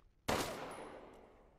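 A single sharp gunshot fired at a vase in Resident Evil Village, loud and close, with a ringing tail that decays over about a second in an otherwise quiet scene.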